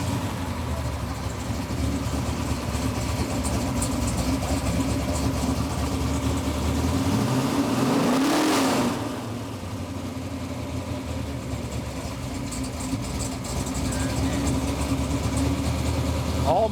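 A rare classic Moon car engine idles at a car show, a steady low, loud mechanical drone with a brief surge of revving near the middle before settling back to an even idle.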